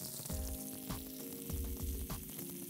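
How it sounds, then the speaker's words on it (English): Sea bass fillet sears skin side down in a hot nonstick pan, giving a steady, close sizzle and crackle that carries on without pause or talk. "now it's time to start searing. It needs to go skin side down first."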